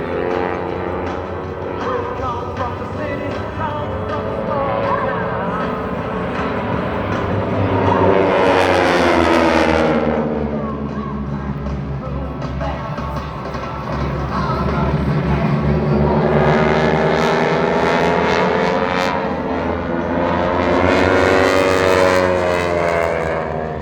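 Aeroshell aerobatic team airplanes make passes at an evening air show at EAA AirVenture Oshkosh, piston engines droning loud and rising then falling as they sweep by twice with a strong doppler sweep.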